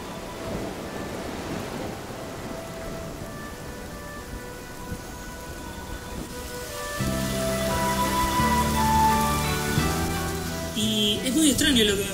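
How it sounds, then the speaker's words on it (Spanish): Rain pours steadily with thunder rumbling, a broad hiss of falling drops joined midway by deep rolling booms and tonal music rising beneath. "La lluvia, un fenómeno de la naturaleza primitivo, tan antiguo como el mismo mundo."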